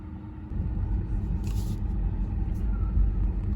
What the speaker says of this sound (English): I am driving through. Actually, not through the autobahn, but through the Landstrasse and through the villages